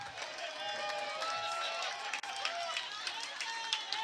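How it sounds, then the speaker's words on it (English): A crowd cheers at a varsity high school football game under new stadium lights, South Elgin against Elgin, a steady, distant roar of many voices with scattered shouts and some clapping. "And the crowd now cheering."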